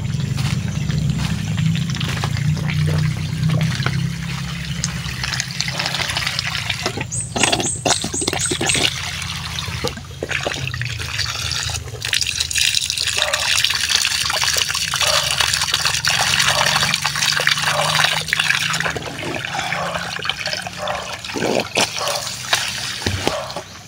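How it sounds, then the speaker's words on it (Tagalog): Strong stream water rushes continuously past a banana plantation, a full steady gush with splashing and trickling, close and loud throughout with no talk. "Medyo malakas agos dito."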